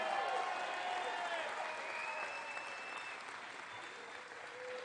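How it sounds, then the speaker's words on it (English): Applause from a campaign rally crowd in Newtown, dense and steady, fading slightly, with whistles and scattered cheers over the clapping. "Give the Vance team a round of applause."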